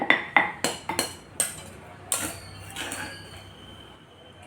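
Spicy drumstick-leaf (moringa) powder is spooned into a bowl, with several sharp clinks and taps of metal utensils against dishes, close and intermittent with brief pauses between knocks.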